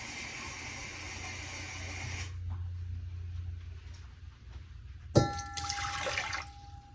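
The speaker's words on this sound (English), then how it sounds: "So first, 1 cup of water." A cup of water poured into a mixing bowl for a moist cake batter: a steady splashing pour for about two seconds, a quiet stretch, then a sharp clunk of the cup set down and brief rattling.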